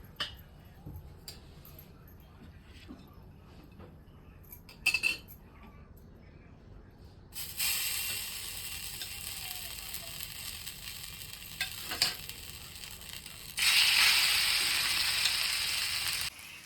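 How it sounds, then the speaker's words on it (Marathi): Poha vadi pieces fry in a little oil on a griddle over a gas flame, with a quiet sizzle and occasional utensil clinks that swell into louder, bright bursts of frying. "मी थोडं फ्राय करून घेते त्याला तर मी गॅसवर तवा ठेवलेला आहे त्यात थोडंसं तेल ओतून घेतलंय"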